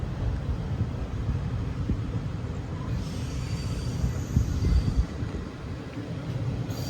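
A superfast express train from Chennai Central to Dindigul rumbles steadily along the rails near Tiruchirappalli, with a low continuous roar and rattling that swells slightly midway, heard close and loud with no voices.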